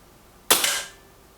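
A single sharp airgun shot from a Kral Arms Puncher Maxi, close and loud, with a crisp crack that decays over about half a second, otherwise quiet.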